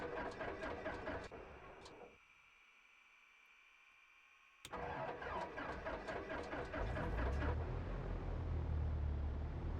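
A Cessna 172 starting in Flight Simulator 2004: a rhythmic starter clatter, a quiet pause, then a sharp catch and a steady propeller-engine rumble that builds and settles into a loud idle, with no voices.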